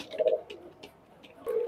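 Pakistani highflyer pigeons at a loft in Khulna give two short, soft coos close by, one near the start and one at the end, with a few faint clicks between.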